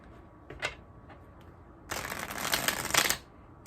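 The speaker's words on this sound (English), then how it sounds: "I'm trying to shuffle them so that they all come out right side up" A couple of quick card flicks, then a sustained riffle of tarot cards being shuffled up close for about a second and a half.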